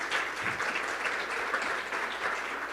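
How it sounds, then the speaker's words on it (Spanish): Audience applause at a Caribbean media and technology panel, a steady, moderately distant wash of clapping throughout, with no voices over it. "Un fuerte aplauso, por favor."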